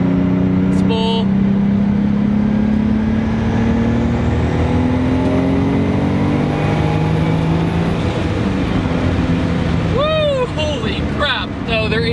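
A 500-horsepower RB26DETT-swapped Z32 300ZX with a big Borg-Warner turbo accelerates through the gears, engine pitch climbing steadily under a whistling turbo spool, close and loud inside the car, with a brief chirp near the end.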